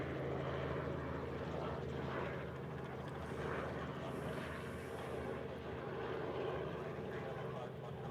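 A DHL cargo plane at Honolulu airport produces a steady, moderately distant engine roar that fills the whole stretch, with a faint higher whine partway through and no break in the drone.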